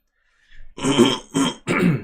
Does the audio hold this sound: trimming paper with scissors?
no